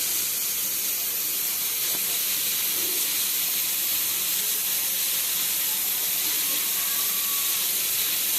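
Ingredients for chicken biryani sizzling and bubbling in hot oil in a cooking pot, a steady, loud, close hiss that runs unbroken throughout with no voices.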